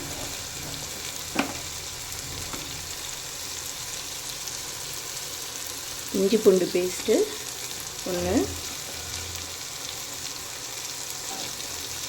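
A continuous soft sizzle of onions and tomatoes sautéing in a pan, with a person speaking briefly in Tamil over it partway through.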